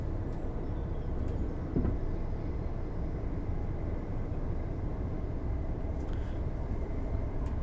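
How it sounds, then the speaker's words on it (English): A 9-car LNER Azuma train in Train Sim World 4 rushes past with a steady, broad rumble and rolling noise. It heard from a moving cab and stays even and continuous throughout, with a faint click partway through. "nice to see another 9-car Azuma fly past us"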